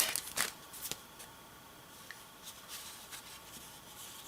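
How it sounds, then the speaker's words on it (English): A card slides out of a paper envelope with quiet, close papery rustles and scrapes, loudest in a few brief bursts at the start, then softer faint rubbing. "Let me take this out of the envelope."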